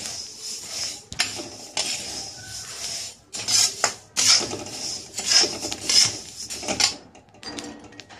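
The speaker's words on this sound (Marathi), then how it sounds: "व्यवस्थित हे मसाले भाजून घ्यायचे आहेत आपल्याला" Spice masala dry-roasting in a pan for a Maharashtrian onion-garlic black masala, heard as a continuous gritty scraping and rasping of a utensil stirring against the metal, with louder bursts of stirring throughout.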